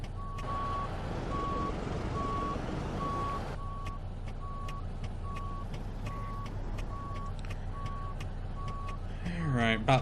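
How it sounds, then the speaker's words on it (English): Reversing alarm of a truck in American Truck Simulator, a regular string of steady beeps playing at even intervals over low engine rumble, loud and close throughout, with a burst of other noise near the end. "we're going to have to turn the truck around here"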